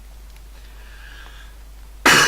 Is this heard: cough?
yes